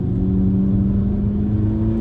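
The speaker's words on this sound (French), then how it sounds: "on peut s'amuser avec le bruit de la voiture" A 2019 Volkswagen Polo GTI with 200 horsepower accelerates, a loud, steady engine drone with a deep rumbling tone heard from inside the car, with no talk over it.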